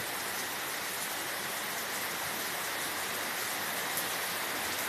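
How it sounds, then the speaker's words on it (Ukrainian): Steady, even rainfall hisses continuously, a dense broadband patter with no wind gusts and no voices. "Вітру немає, такий рівненький, гарний дощ іде."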